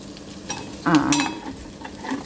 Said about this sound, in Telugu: ఇవన్నీ ఫ్రై అవుతున్నాయి.